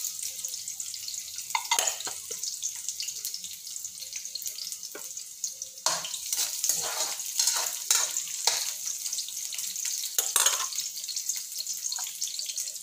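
Garlic sautéing with onion in a pan for native chicken adobo, a steady close sizzle with intermittent stirring scrapes and clatter running throughout.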